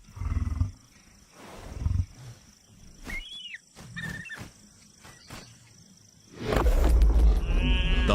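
A lion roars in the desert, with repeated deep roaring bursts near the start and a loud sustained roar at the end, separated by quieter stretches with a few brief higher chirping calls.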